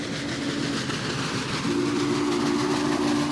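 Union Pacific Big Boy steam locomotive, the largest ever built with 16 driving wheels and four cylinders, hauling a long train: a loud steady rumble and rolling wheel noise with a sustained low tone joining partway through.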